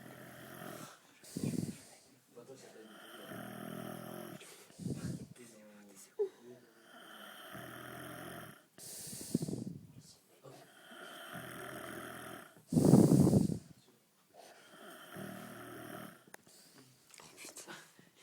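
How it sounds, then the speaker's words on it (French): A man snoring loudly while asleep indoors, deep rasping snores repeating every few seconds with one especially loud snort, close to the microphone with quiet breathing between. "Là, il est en train de ronfler, là."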